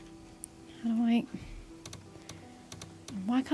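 Soft, scattered clicks of a computer keyboard, with taps coming in short bursts. Game sounds and some hummed or voiced noises run over the top of them.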